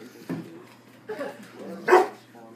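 A border collie barking on a TV dog show, heard as three short, muffled barks played through a television speaker in a quiet room.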